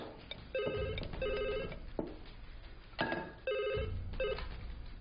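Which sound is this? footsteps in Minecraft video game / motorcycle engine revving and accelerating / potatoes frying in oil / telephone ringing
telephone ringing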